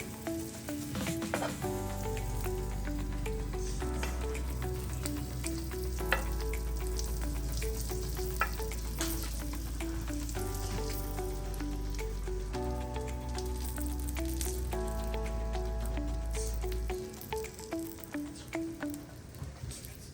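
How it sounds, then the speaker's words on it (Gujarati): A dabeli bun roasts on a hot pan, sizzling steadily with a faint crackle throughout, while loud background music with a plucked melody and deep bass plays over it. "હવે આપણી દાબેલી શેકાઈ રહી છે, એને આપણે પલટાઈ દઈશું."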